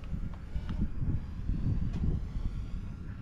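A small drone flies overhead during a family kite-flying outing, giving a continuous low whirring drone with faint hum, fairly quiet and without speech.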